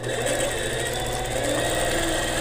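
A sewing machine runs steadily during free-motion quilting on a miniature piece, a continuous close mechanical whir with an even, humming drone.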